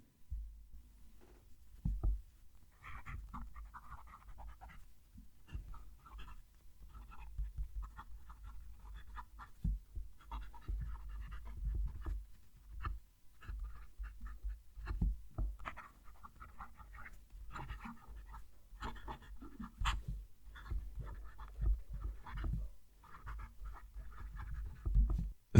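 A Visconti fountain pen nib scratches across paper in repeated short strokes, a soft dry scribbling that sounds close, quiet and steady over a faint background.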